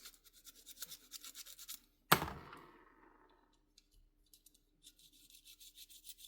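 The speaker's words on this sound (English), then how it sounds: "just give it a quick wee file anyway, just to smooth it down, so the problem doesn't come back again" A file is drawn across the edge of a brass part in a run of quick, quiet rasping strokes, broken by a single sharp clatter, then more soft strokes follow.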